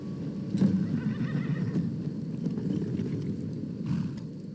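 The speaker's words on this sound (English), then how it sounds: "Here is Shadowmere, our new horse." A horse whinnies near the start in the video game Skyrim, followed by steady clip-clop hooves and low rumbling ambience throughout.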